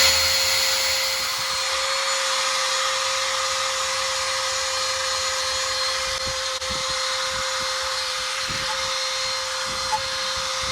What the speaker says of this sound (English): So, drill, wire brush,